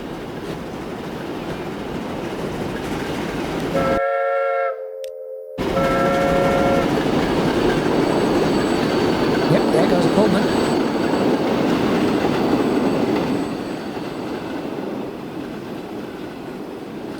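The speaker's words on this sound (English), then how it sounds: "Is that the Pullman coming through?" A Pullman train rolls past in a Transport Fever 2 game session, a steady rumbling rail roar with a brief two-tone horn blast early on, continuing loud and even before easing slightly toward the end.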